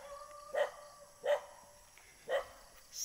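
Dog barking at a person nearby, four sharp separate barks spaced about a second apart, moderately close, with quiet background between them.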